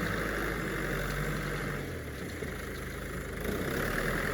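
The engine of a four-wheel-drive vehicle working the ground while preparing a horse arena runs as a steady, loud, low drone throughout, with a slight dip in the middle.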